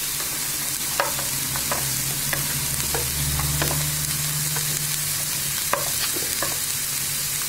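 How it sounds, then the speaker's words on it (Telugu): Thinly chopped cauliflower and beans sizzle with onions in a pan while being stirred, a steady close frying hiss punctuated by scattered scraping taps of the spoon, with no talking. "ఆనియన్ను మనకి ఇలా వేగాక ఈ సన్నగ కట్ చేసి పెట్టుకున్న క్యాలీఫ్లవర్, బీన్స్ వేసేసుకుందాం."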